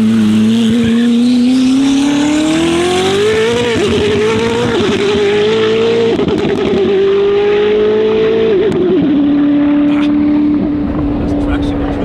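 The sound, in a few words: sports car engine revving while accelerating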